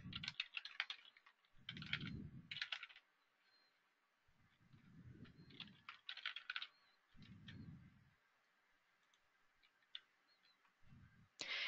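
Faint bursts of computer keyboard typing, quick clustered keystrokes in short runs, alternating with soft low rumbling thumps, fairly quiet overall.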